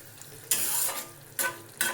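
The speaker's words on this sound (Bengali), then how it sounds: "মশলা করছি একটুখানি, তো এর মধ্যে সব কিছু দিয়েছি, পেঁয়াজ বাটা, রসুন বাটা, টমেটো পিউরি" Onion paste, garlic paste and tomato puree with spices fry in a pan, with a steady sizzle that surges loudly in two or three stirring bursts, close and without talk.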